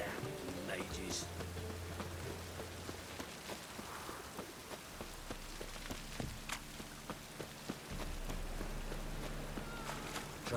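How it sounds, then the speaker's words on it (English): Rain patters steadily in The Witcher 3, a soft continuous hiss with faint scattered drops, quiet beneath game music and ambient sounds throughout. "Rain again."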